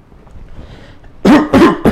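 Three harsh, close coughs come in quick succession after a moment of quiet breathing.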